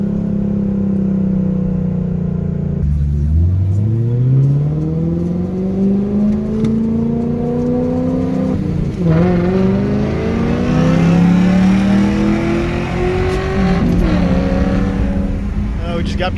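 A BMW E39 540i V8 with a swapped resonator, 3-inch piping to a single exit and no mufflers revs loudly and continuously, its pitch climbing and dropping through repeated throttle blips, up close and steady in volume.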